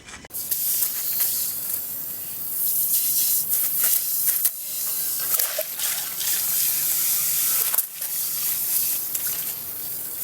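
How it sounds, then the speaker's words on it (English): Dirty water pours and splashes out of a tilted Standard china porcelain urinal, a loud continuous rushing stream that briefly breaks and resumes over about ten seconds. "I'm gonna go ahead and tilt the urinal up to get this dirty water out"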